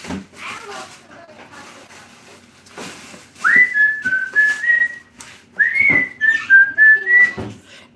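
A person whistles two short tuneful phrases, clear and fairly close, with faint background noise and a quieter lead-in before the melody starts.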